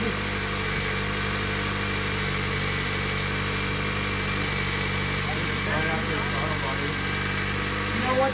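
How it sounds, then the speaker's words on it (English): A car engine runs at high idle during a vacuum test, a steady, close, continuous hum with a faint vibration and a slight shift in tone partway through, while someone talks over it. "this is in high idle"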